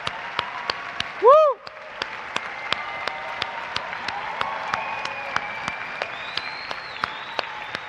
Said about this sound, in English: the final round of applause